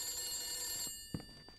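A telephone rings inside the Haunted House Simulator video game, a steady bright electronic trill lasting about a second before cutting off, followed by a few soft knocks and thuds.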